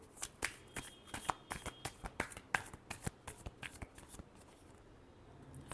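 Tarot cards are shuffled by hand close up in quick riffling bursts with crisp slaps, then the shuffle stops and it goes quiet near the end.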